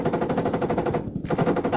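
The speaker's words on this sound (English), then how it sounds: "I killed him with my AK." Rapid automatic AK rifle fire in a tank combat video game, a loud continuous burst of evenly spaced shots that stops briefly and then resumes.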